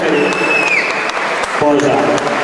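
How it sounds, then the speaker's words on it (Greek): Dense applause and cheering from the audience at a bodybuilding show, loud and continuous, with a whistle and voices mixed into the crowd noise. "Να ακούσω χειροκρότημα"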